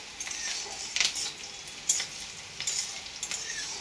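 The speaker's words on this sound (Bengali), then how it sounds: "পেঁয়াজটা একটু ভাজা হোক।" Onions fry gently in a pan, a soft steady sizzle with occasional scrapes and taps of a utensil stirring, fairly quiet and close, with no talking.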